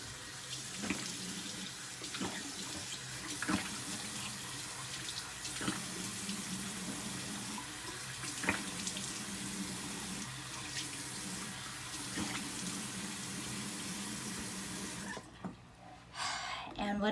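Water running from a tap into a sink for a face rinse, a continuous close splashing stream with occasional drips and splashes of hands in water, stopping near the end.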